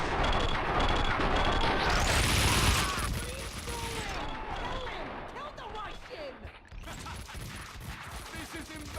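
Dense bursts of gunfire ring out in the video game Max Payne 2, a loud, crowded barrage that thins into scattered shots and clanks, with a voice talking through it.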